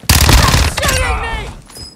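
A loud, close burst of automatic gunfire rattles out in Warzone 2 Resurgence on Ashika Island, then a rapid fusillade trails off with a short echoing tail.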